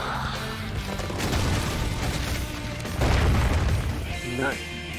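A fire spell attack in Persona 5 Royal bursts out as a roaring, booming blast with crackling explosions, loud and dense throughout the short battle moment.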